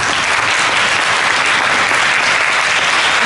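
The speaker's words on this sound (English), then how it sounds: "And if we could continue the round of applause for our panel tonight." Sustained audience applause for a panel at an evening event on preventing gun violence, dense and steady throughout, loud and close with no talk over it.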